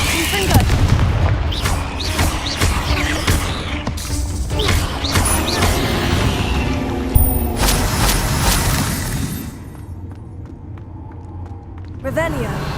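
Repeated Confringo fire-blast spells exploding in Hogwarts Legacy combat, a string of sharp booms and crackling impacts over several seconds, loud and busy, with spoken spell incantations in the mix, fading toward the end.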